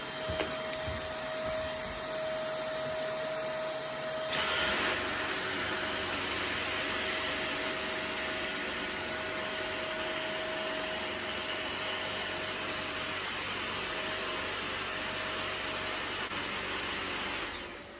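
Two cordless stick vacuum cleaners, a Dyson and a cheap no-name knockoff, running on high side by side, a loud steady whine that jumps louder when the second one starts and holds for the whole stretch.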